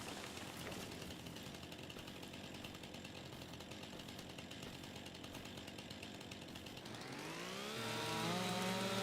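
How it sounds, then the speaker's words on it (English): A chainsaw cuts trees in the Farming Simulator 25 video game, a continuous buzzing drone that rises in pitch and loudness near the end as the engine revs up. "I've got 2 different chainsaws and they've actually got a different sound."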